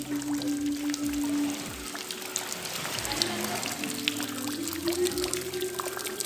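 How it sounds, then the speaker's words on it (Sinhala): Spring water falls from overhead onto rock inside a cave shrine, a steady close splashing pour with dense droplet spatter that runs continuously throughout. "වතුර වැටෙන්නේ මේ උඩින්."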